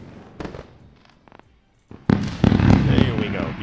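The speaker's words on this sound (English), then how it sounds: "Let's go with a round of fireworks." A fireworks sound effect plays on a live futures day-trading stream: a few scattered pops and crackles, a brief gap, then a loud dense burst of crackling bangs, with talk mixed in.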